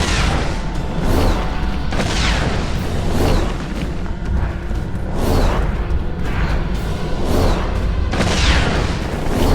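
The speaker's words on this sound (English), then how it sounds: "How does a bomb not affect him?" Bombs going off in The Witcher 2 action RPG: a loud, continuous series of heavy booming blasts roughly every second, each with a bright crackling burst on top, filling the whole stretch.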